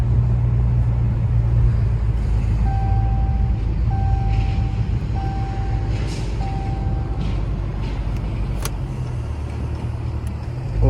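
A Dodge SRT 392 driving around a corner, heard from inside as a loud, steady low engine rumble with road noise and a repeating electronic chime tone.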